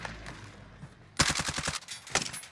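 Rapid automatic gunfire in the battle-royale shooter Warzone, loud close bursts of evenly spaced shots breaking in after a quieter stretch, then a second shorter volley near the end.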